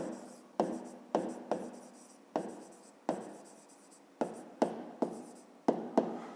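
Pen strokes on paper as the sides of a triangle are written out by hand for a fifth-grade geometry exercise: a dozen short, sharp scratches in an uneven rhythm, close and quiet against near silence.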